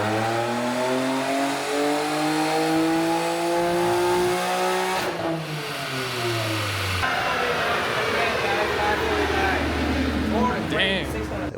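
BMW M3 running a BM3 stage 2 tune accelerating hard from 60 to 130 mph, engine note climbing steadily through gears with clear shift breaks, loud and continuous over road and wind noise.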